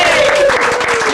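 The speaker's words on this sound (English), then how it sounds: "let's give him a big round of applause." Audience applause for Santa Claus at a Memphis entertainment studio museum, a loud, dense burst of many hands clapping close by, with a faint voice threading through it.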